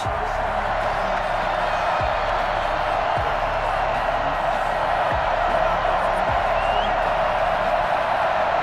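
Stadium crowd at an NFL game between the New York Jets and Baltimore Ravens, a steady broad roar of fans filling the air throughout, with faint scattered cheers rising in the background.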